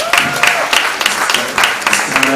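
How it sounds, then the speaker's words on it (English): A round of applause at a lecture honoring a former head of state, steady clapping from an audience with a few sharper claps standing out, fairly loud, with faint voices underneath. "A round of applause, please"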